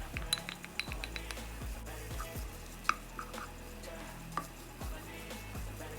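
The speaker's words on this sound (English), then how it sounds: "continue to stir fry until the vegetables are cooked to your liking" Vegetables with mushrooms being stir-fried for vegetable japchae: a utensil clinks and scrapes repeatedly against the pan in an uneven rhythm, over a constant low sizzle.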